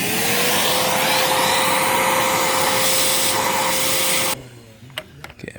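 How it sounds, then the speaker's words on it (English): Vacuum cleaner runs with a loud, steady whine and airy rush while pulling a broken bolt from an MK6 Golf R cylinder head, then cuts off abruptly, leaving a few faint clicks and knocks. "Maybe the vacuum will get it."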